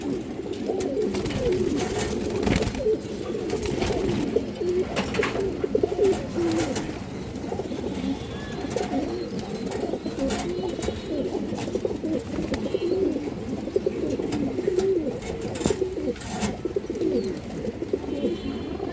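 Domestic pigeons kept for sale coo continuously and close by, several birds overlapping in soft, throaty rolling calls with no pause.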